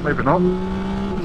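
A 2024 Yamaha Tracer 9 GT+ motorcycle engine pulling hard at full throttle, a loud rising note that settles into a steady drone while someone speaks briefly at the start.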